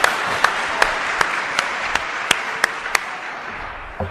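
Church congregation claps in a slow, even rhythm, about ten sharp claps spaced roughly every half second, fairly close and alone without talk.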